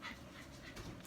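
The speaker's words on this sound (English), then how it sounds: "Now my dog is running around making noise." A dog panting with soft whimpers close by indoors, quick breathy puffs over a brief moment, ending in a sharp high squeak.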